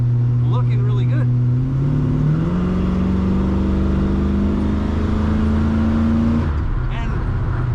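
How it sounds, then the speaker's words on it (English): A 1970 Chevrolet K10 4x4 truck engine accelerates steadily, its drone climbing in pitch over several seconds from inside the cab before easing off, with brief voices heard near the start and end. "And I just felt that truck pull."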